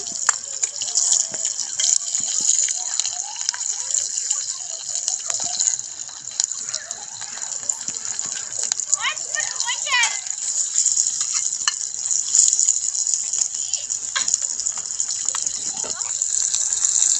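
Whole cumin seeds and cinnamon sizzle in hot oil for a raw banana kofta curry, a steady, bright frying hiss that carries on without a break, with occasional crackles.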